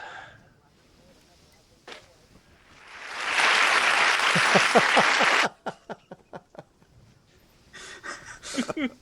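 A voice mimics applause with a burst of breathy, clapping-like noise lasting a couple of seconds, followed by a run of sharp clicks and some talk.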